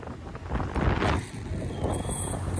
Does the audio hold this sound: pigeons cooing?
no